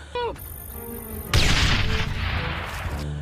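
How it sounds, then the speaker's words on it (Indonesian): A bomb hidden under a table explodes with a sudden loud boom, followed by a rolling, crackling roar that lingers for a couple of seconds before easing. "Seketika bom itu pun meledak dan menghempaskan para anggota tim."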